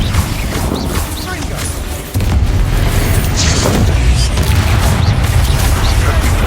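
Spell explosions such as Bombarda and Confringo in Hogwarts Legacy, dense booming blasts and crashes piling up in a loud continuous barrage of combat noise, with spoken voices mixed in.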